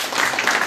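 A crowd claps briefly to welcome new members joining the BJP at a Jammu and Kashmir party event, a short dense burst of applause, fairly loud and close.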